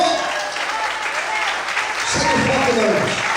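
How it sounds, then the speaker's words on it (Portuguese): Church congregation applauding, a steady broadband wash of clapping that carries throughout, with a voice speaking over it, especially in the second half. "Quando for de aplaudir e exaltar o Senhor,"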